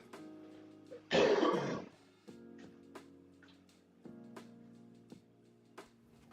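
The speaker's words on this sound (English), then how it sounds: "going to cough." One sharp, close cough bursts out, lasting under a second, over a quiet and steady background.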